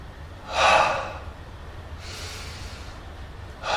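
A single deep inhalation drawn in through the chest during a meditation class, loud and close, followed by softer breathing with a second breath starting at the end; no talking.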